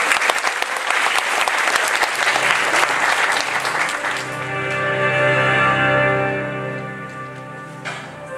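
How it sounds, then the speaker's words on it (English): A theater audience at an Oscars-themed evening breaks into loud, dense applause for half the clip, then it fades as music with sustained tones takes over. "Everybody, round of applause."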